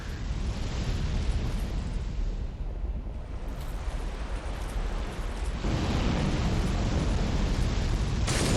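Fire attacks blast in Dark Souls 2 as a dense, roaring rush of flame and rumbling explosions. The roar keeps up throughout, briefly thinning midway and then swelling loud again, with no voices over it.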